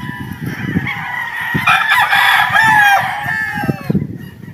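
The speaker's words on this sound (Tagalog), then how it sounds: "Napakagwapong manok po ito mga bossing" A rooster, a battle stag at a game farm, crows loudly and close, a long drawn-out call rising over background clucking and farmyard noise.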